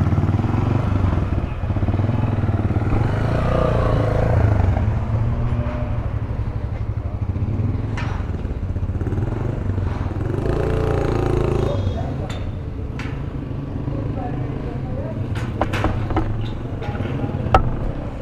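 A Honda CG 125 motorcycle with a tank bag rides back toward the rider, its engine a steady low drone close by. Voices talk over it, with a few clicks and clatters near the end.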